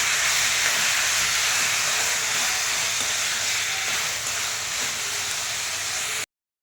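Tomatoes frying in a pan, giving a steady, close, bright hiss of sizzling oil that holds evenly before stopping abruptly.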